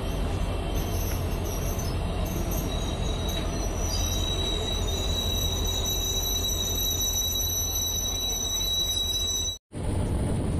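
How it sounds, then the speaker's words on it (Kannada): A Ballari–Davanagere DEMU train pulls out of Vyasanakere railway station with a loud, continuous rumble, wheel noise and high squealing throughout, heard from on board with no talking. "ವ್ಯಾಸನಕೇರಿ ರೈಲ್ವೆ ಸ್ಟೇಷನಿಂದ ಹೊರಟಿದೆ ನಮ್ಮ ರೈಲ್ ಈಗ"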